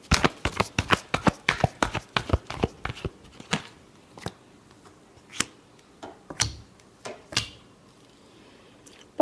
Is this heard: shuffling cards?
yes